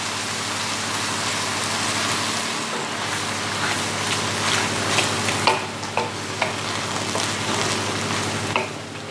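Curry cooking in a pan, with a can of coconut milk poured in and stirred, giving a steady bubbling simmer under scattered soft clicks and scrapes.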